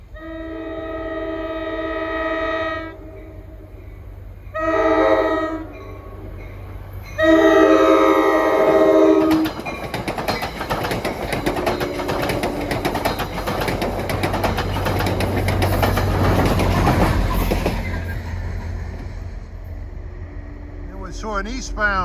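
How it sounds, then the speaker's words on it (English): An NJ Transit train sounds its horn in several loud, sustained chord blasts, then rumbles past close by with a roaring rush that fades toward the end. "Nice unrestricted, good quality horn blowing."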